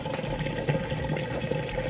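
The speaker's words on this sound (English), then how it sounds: "now moving out of the wash cycle into the rinse cycle, draining the water out of those clothes" An Amana washing machine drains water during its rinse cycle, a steady rushing, gurgling flow of liquid at low, even level, heard close with no voices.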